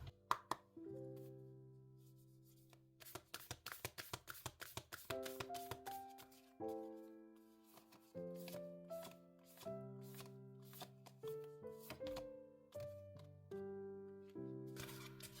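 Oracle cards being shuffled at a tarot reading: quick, crisp riffling clicks in short bursts, heard close over steady melodic background music.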